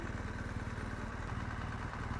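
A BMW R1200GSA motorcycle engine idles with a steady low putter and faint mechanical clatter, fairly quiet and continuous.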